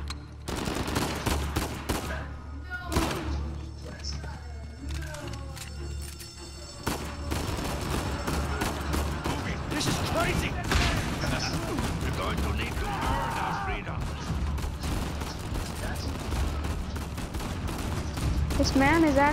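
Pistol gunfire in the Uncharted 4 prison break level, with repeated shots and bursts that stay loud and close amid game sounds throughout, while a person talks over much of it.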